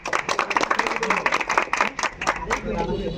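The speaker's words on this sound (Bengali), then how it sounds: "আমরা তাদের জন্য একটা করতালি দেবো।" A group claps for the organisers of a rain-soaked multi-day sports tournament, close and fairly loud, with uneven bursts of individual claps. Voices murmur and talk beneath the clapping, which thins out near the end.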